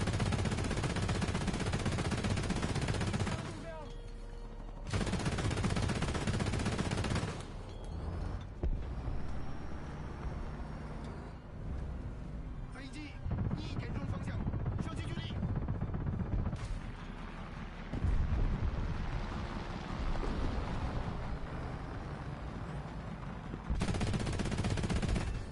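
Heavy tank cannon in War Thunder firing in loud, dense bursts that fill the track, with brief lulls between blasts and mechanical clanks; no voices.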